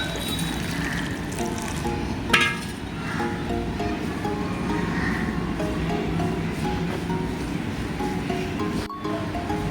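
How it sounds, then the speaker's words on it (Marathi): Water poured into a bowl of fresh drumstick leaves gives a continuous close splashing and sloshing, with leaves rustling and a sharp clink partway through, without voices. "आता याच्यामध्ये आपण पाणी टाकूया"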